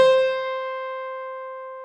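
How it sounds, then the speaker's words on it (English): One clean guitar note or chord from a Roland MT-300 sound module sustains and slowly decays, with a light reverb tail and no other sounds. "and we have some basic reverb."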